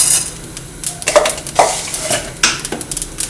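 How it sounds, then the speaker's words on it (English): Cumin and fenugreek seeds dry roasting in a pan for green chilly pickle, heard as close, bright rattling scrapes and clinks of a spoon against the pan in quick irregular bursts. "We have to dry roast it for 2-3 minutes till we get a nice smell of cumin seeds."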